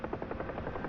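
A Huey helicopter autorotating in the DCS flight simulator gives a brief, steady rhythmic rotor thumping over a soft hiss, fairly quiet and alone.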